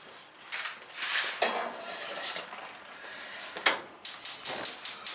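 A toffee pan holding butter and other ingredients is shifted onto a kitchen stove, with scraping and clattering of metal cookware, then a run of about six sharp, evenly spaced clinks near the end.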